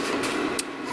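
A cheap flux core welder runs a bead along a rectangular steel tube, giving a continuous close crackling buzz with a couple of brief sharper pops and no talking.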